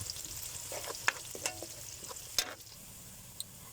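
Pork is sautéed in a wok, giving a soft steady sizzle broken by several metallic utensil clanks and scrapes against the pan, fairly quiet and close, with no talking.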